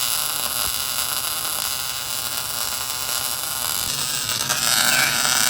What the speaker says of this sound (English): So we're on this side, getting this all welded in.